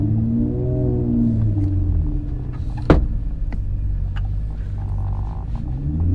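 Deep rumbling exhaust from a 2013 Infiniti G37 sedan with test pipes and a 3-inch custom exhaust, heard from inside with the windows up while driving. It holds a steady low drone with rising and falling engine tones and one sharp clunk partway through.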